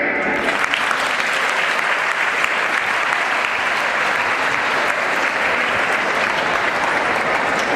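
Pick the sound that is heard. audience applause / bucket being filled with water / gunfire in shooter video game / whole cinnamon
audience applause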